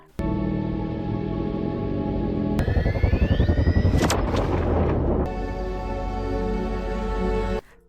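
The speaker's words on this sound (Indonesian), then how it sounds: "Sampai akhirnya frekuensinya meledak." A high-frequency blast erupts in a Kraken film scene. A sustained electronic drone swells into a rising whine and a burst of rapid pulsing booms, then settles back into a steady droning hum.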